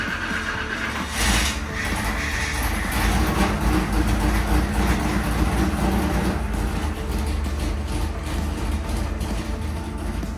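A V8 engine running E85 fuel through a 750 carburetor roars on a dyno. The loud, continuous mechanical rumble surges sharply near the start and then holds steady, with no speech.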